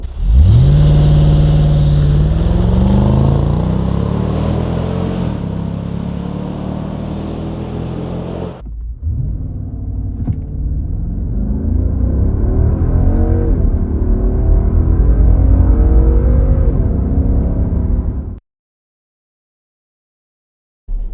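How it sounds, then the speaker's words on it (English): A 2026 Nissan Patrol Warrior V8 (Y62) accelerates hard from standstill to 100 km/h, its loud engine note climbing through a gear change, dropping briefly, then rising again before cutting to near silence at the end. "And here is this car going from 0 to 100."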